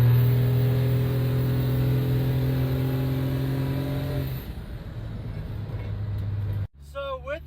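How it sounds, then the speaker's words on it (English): A vehicle with an added overdrive transmission revs strongly with a rising engine drone, which then drops off as the gear changes, followed by a lower steady run and a brief pause, heard up close. "I put my foot down to the floor and it downshifted to second gear and started taking off"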